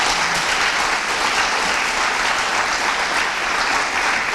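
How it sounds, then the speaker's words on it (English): A community-night audience breaks into steady, dense applause, loud and continuous from start to end with no speech over it. "So if everybody could give them a round of applause."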